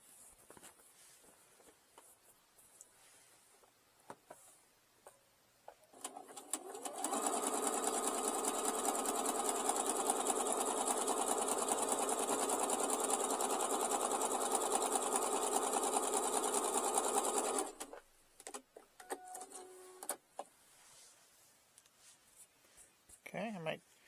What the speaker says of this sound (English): That's what doing a zigzag stitch across there looks like.